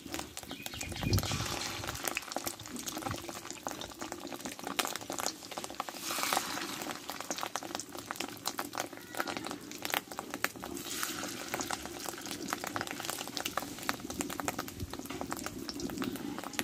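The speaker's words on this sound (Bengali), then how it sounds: "আমি সরষের তেলটা দিয়ে দেবো, দিয়ে এবার ডিমের বড়াগুলো আমি ভেজে নেব ছোটো ছোটো করে" Small fish roe fritters frying in mustard oil in a hot kadai, giving a soft continuous bubbling sizzle with light patter, faint and steady throughout with no speech.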